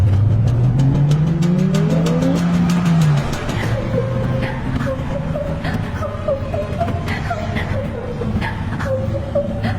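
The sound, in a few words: car speeding up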